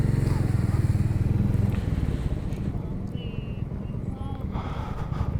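A Royal Enfield Meteor 350 motorcycle rides along, a loud, close, pulsing single-cylinder thump that eases slightly, with a voice talking over the engine.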